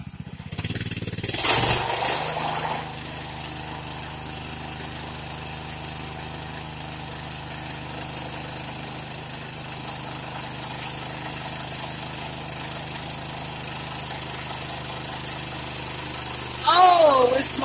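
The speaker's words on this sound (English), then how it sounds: "burn out my mini bike on the back tire" A mini bike engine runs at a steady, rough, droning idle-to-rev during a back-tire burnout, close and continuous for most of the stretch, with louder bursts of noise at the start and end.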